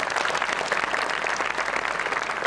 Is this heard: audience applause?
yes